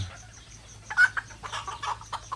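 Native bantam chickens cluck in short, soft bursts nearby on a free-range farm, a few irregular calls over a quiet background.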